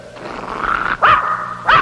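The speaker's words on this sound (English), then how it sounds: "He's barking at that awful-looking face." A dog growls low and then lets out two sharp, loud barks close up, the second following shortly after the first.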